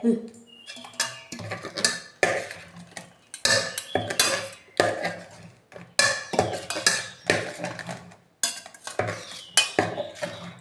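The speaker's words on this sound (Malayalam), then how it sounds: "നല്ല ഇളക്കി കൊടുക്കണം. നല്ലോണം മിക്സാക്കിയിട്ട് ഉപ്പുണ്ടോ നോക്കുക." Kadumanga mango pickle mixture stirred in a metal vessel: a loud, close run of repeated scraping and clinking strokes from the spoon against the pot, in an irregular rhythm.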